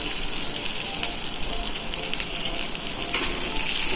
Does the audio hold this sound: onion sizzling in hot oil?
yes